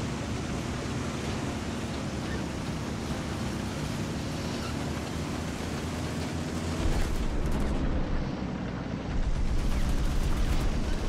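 Gunfire in the War Thunder tank battle with an M4A2 76(W) Sherman, a dense continuous roar of shots and explosions with heavier bursts near the end, no talking.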